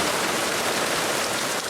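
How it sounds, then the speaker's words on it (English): Heavy rain pouring down at a lakeside cottage, a dense, loud, unbroken hiss of drops on surfaces with no pauses. "It also rained like crazy."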